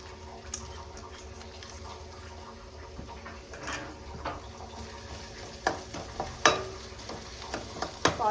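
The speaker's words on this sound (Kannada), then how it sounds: "ಆನಿಯನ್ ಫ್ರೈ ಆಗ್ತಾ ಇದೆ" Onions sizzle in hot oil in a pan, a low, steady frying hiss broken by scattered clicks and scrapes of stirring that grow sharper toward the end.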